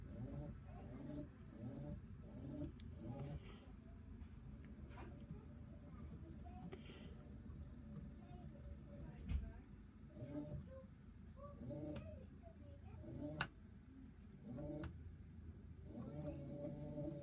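An LG front-loading Turbo Wash washing machine runs its spin cycle, a steady low rumble and hum that continues throughout, with people talking over it and a couple of sharp clicks.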